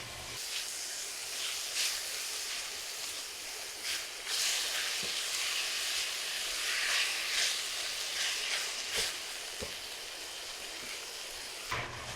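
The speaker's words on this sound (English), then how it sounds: "you're going to brown this for just a couple more minutes" Ground beef, 85-15 lean, sizzles and hisses as it browns in a pan, a steady soft crackle broken by brief louder spatters and a few faint clicks, with no talking.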